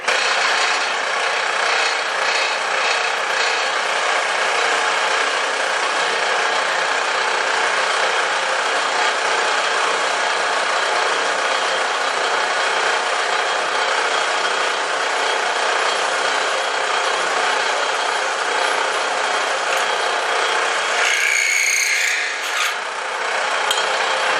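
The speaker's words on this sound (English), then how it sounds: "The skew is a scraper now. So I'm going to use this to open this hole up." A skew chisel scrapes to open a hole in spinning wood on a lathe, giving a loud continuous harsh rasp for over twenty seconds that shifts in tone near the end.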